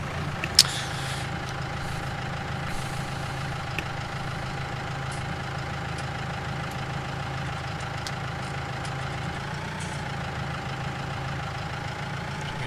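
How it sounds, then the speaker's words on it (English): Tractor engine idling in the Farming Simulator 2019 video game, a steady low drone holding at an even level throughout with a brief click near the start and a slight pitch waver later; no talking. "exit the combine harvester, and we will now get into the tractor"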